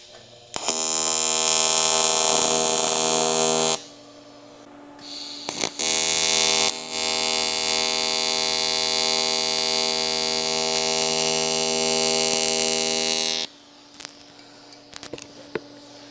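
A TIG welder tack-welds an aluminum rod rack, giving a loud, steady electric buzz that runs for several seconds, stops, then returns for a long continuous stretch before cutting off, with quiet pauses between.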